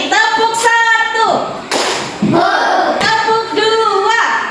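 Elementary school pupils in a classroom clap together in rhythm while chanting in unison, with a few sharp bursts of claps breaking through the children's voices.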